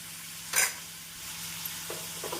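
Chopped chayote goes into a pan with onion and tomato: one sharp scrape and clatter of stirring, then a faint steady sizzle with a couple of soft clinks.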